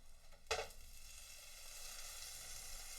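Fresh burger patties frying in a pan give a steady, soft sizzle, with one brief louder crackle near the start and then a continuous hiss with no talking.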